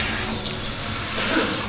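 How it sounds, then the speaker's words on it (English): Running water from a salon hair-wash faucet hisses in a steady, close, broadband rush with no break and no voices. "Looks like he's testing the water first."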